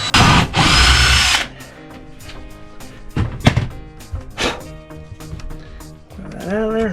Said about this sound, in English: Pre-drill another hole for the other bolt.